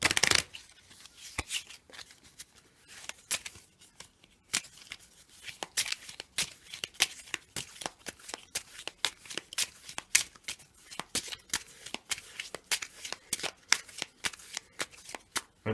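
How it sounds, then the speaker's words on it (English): Matchday cards and position cards for a football board game being shuffled by hand in a run of quick riffled ripples and slaps, close and fairly quiet, alone with no talk. "now I'm going to shuffle the matchday cards with the remaining position cards"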